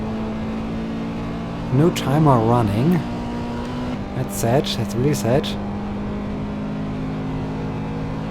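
A race car engine in the Assetto Corsa racing game drones steadily at close range while someone talks over it throughout.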